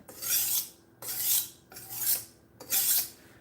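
A knife blade drawn across a whetstone in four steady raspy strokes, each a bright grinding swipe with short pauses between, close and clear with no talking.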